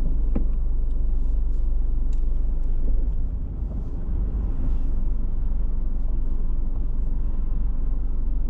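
A car pulls out of a car park with a steady low engine rumble close by, a slight dip in loudness partway through, and no talking.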